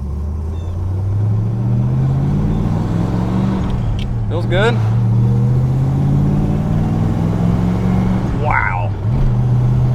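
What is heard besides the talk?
modified V8 car engine revving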